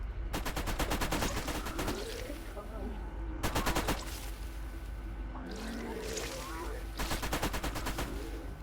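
Rapid turret gunfire from the video game Borderlands, on Zombie Island of Dr. Ned, comes in several loud machine-gun bursts separated by brief pauses, with game ambience underneath.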